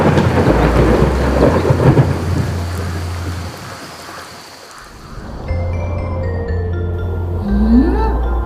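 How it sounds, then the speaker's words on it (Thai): Steady rain pours down with rolling thunder rumbling through it, a continuous wet hiss that dips briefly before swelling again; no one speaks. "ที่ฝนตกแบบนี้ เพราะว่าเราอยู่ใน ฤดูฝน"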